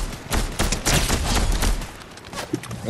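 Rapid bursts of automatic gunfire from a bot in the video game Fortnite, loud and close, with dense overlapping shots for nearly three seconds.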